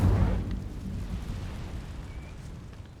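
Casting the Incendio fire spell in Hogwarts Legacy sets off a sudden low whooshing burst that rumbles and then decays into a sustained dull roar, with no voices.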